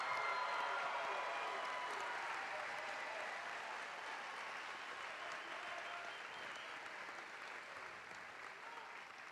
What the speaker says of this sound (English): Let's give all of our honor graduates a huge round of applause.